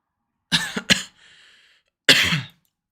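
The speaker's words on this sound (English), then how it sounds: "I'm just coughing up so much." Three sharp coughs close by: two quick bursts, a short raspy breath, then a final harsher cough after a pause.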